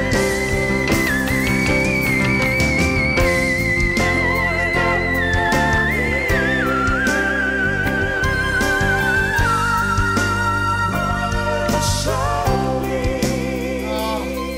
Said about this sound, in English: Here's her whistle register section.